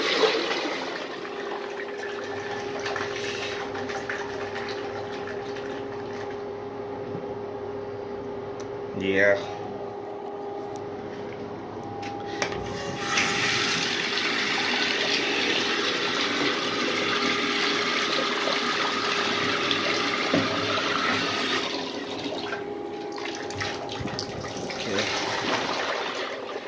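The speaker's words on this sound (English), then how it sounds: "Here's the wacky flush." Rushing, gurgling water from a miniature 1983 Norris wall-hung toilet flushing, building partway through and running for several seconds before tapering into a trickle, with a brief voice and small clunks along the way.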